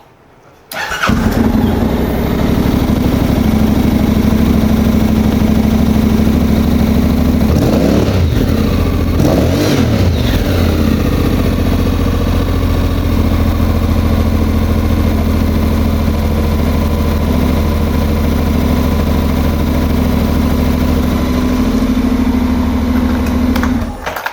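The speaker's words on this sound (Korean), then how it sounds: "이번엔 시동을 켜서 이제 배기음을 들어보겠습니다." A Honda Integra 700 touring scooter with about 69,200 km starts up and settles into a steady, loud idle with a low exhaust hum, briefly blipping the throttle partway through.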